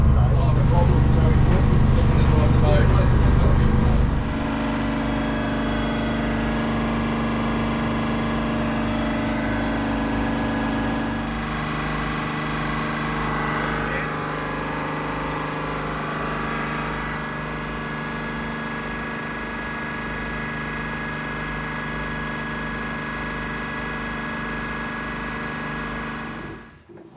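A marine boat engine runs loudly with a harsh roar, then drops to a steady, lower idle with a constant hum that continues for over twenty seconds before cutting out near the end.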